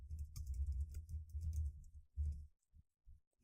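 Quiet typing on a computer keyboard while writing code, a quick run of soft clustered key clicks followed by a few isolated taps, close and faint.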